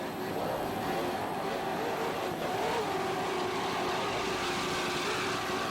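A racing powerboat engine throttling during an offshore race, a steady loud drone with a slight rise and fall in pitch that carries on throughout with no voices.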